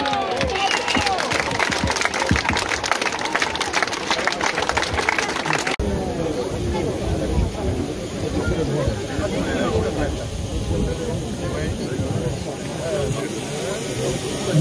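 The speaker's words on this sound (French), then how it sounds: "Voilà un moment très émouvant et on peut applaudir." A crowd applauds and cheers at the dedication of the Stade Roland Bertranne rugby ground in Ibos, a continuous dense clapping and roar that shifts character midway, with voices mixed into the noise.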